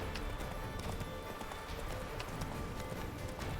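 A horse gallops in The Witcher 3, its hooves clip-clopping in a steady, fast rhythm close by and loud throughout, over a busy game soundscape.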